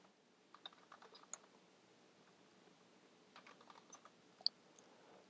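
Keys tapped on a computer keyboard while installing Ubuntu 14.04 on an over-clocked Raspberry Pi 2, as quiet scattered clicks in two short bursts separated by a pause, heard alone.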